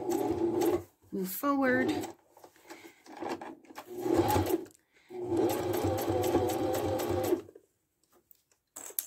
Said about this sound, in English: do a couple of stitches and then back stitch just to secure that edge